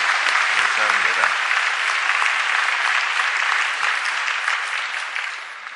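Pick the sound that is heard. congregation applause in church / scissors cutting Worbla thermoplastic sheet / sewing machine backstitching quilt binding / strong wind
congregation applause in church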